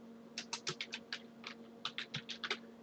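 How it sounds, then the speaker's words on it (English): Quick bursts of keystrokes on a computer keyboard while entering a layer name in AutoCAD, a close, crisp run of about a dozen clicks with a brief pause midway, over a faint steady hum. "we're going to type in"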